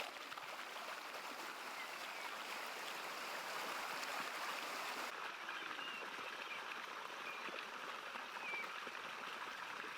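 A waterfall in North Sumatra pours steadily, a continuous broadband rush of falling water that stays even and fairly faint throughout, with no voices.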